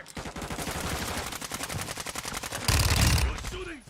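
Rapid automatic gunfire in a video game, loud close bursts of evenly spaced shots that run almost without pause, ending in a denser, harsher blast, with a voice briefly underneath.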